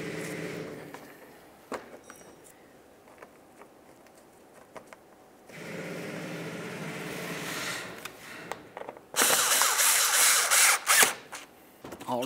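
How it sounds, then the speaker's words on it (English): A power tool on a 2012-2014 Volkswagen Jetta drives mounting screws into a front driver side inner fender liner, with short whirring bursts separated by pauses and a louder final run near the end, close and clear. "Now we can start putting in our mounting screws."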